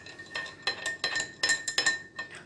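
Teaspoon stirring sugar into atom tea in a glass, a quick series of bright clinks of metal against glass, close and fairly loud, several strikes in an uneven rhythm.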